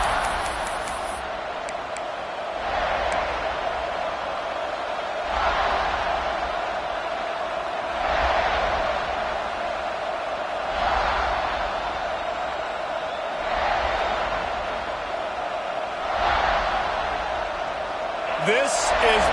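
A crowd at a South Carolina Gamecocks football game in a stadium sends up a broad, steady roar that surges in regular waves, like rhythmic chanting, and stays loud throughout with no voice over it.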